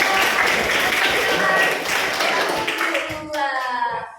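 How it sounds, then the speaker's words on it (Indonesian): A class of schoolchildren clapping hands together at a teacher's cue, a dense burst of clapping that fades out as children's voices and chatter rise. "Tepuk tangan dulu."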